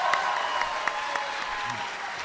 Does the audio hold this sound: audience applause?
yes